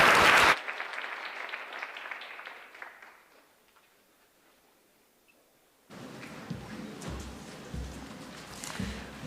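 At a speech competition night, an audience claps for the speakers. A loud burst opens, then the clapping thins and fades almost to silence before a softer, scattered round returns with a few light knocks and rustles.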